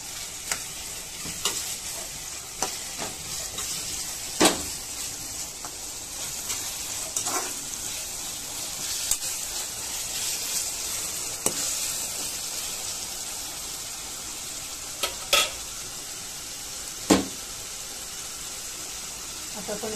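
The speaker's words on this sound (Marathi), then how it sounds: "मसाला जो वाटलेला आहे तो घालून घेऊया. तोही व्यवस्थित परतून घ्यायचा आहे." Ground masala for chicken sukka stir-fried in a pan, giving a steady close sizzle punctuated by sharp scrapes and taps of a spatula at irregular intervals.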